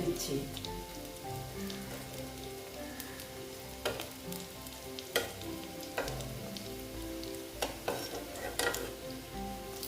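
Egg fritters (bora) frying in oil in a pan, a continuous soft sizzle with occasional sharper clacks of a utensil against the pan, no talking.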